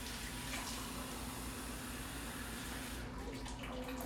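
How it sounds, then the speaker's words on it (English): Warm water runs steadily into a measuring cup for bread dough in a home kitchen, a continuous faint pour that thins out near the end. "Now I need to get 1 more cup of warm water."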